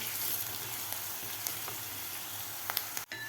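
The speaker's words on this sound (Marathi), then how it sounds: "लसूण आणि कांदा आपल्याला चांगला दोन मिनिट थोडासा असा गोल्डन कलर होईपर्यंत परतून घ्यायचा आहे" Garlic and onion fry in a pan toward golden brown for a ridge gourd bhaji, a dense steady crackling sizzle with occasional faint utensil taps and a brief drop near the end, no voices present.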